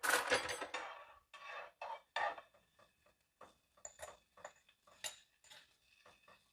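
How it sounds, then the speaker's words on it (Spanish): Garlic fries in a little oil in a pan while a utensil stirs it, quiet metallic scrapes and clinks in uneven bursts over a faint sizzle. "Muévele a los ajos, Mía."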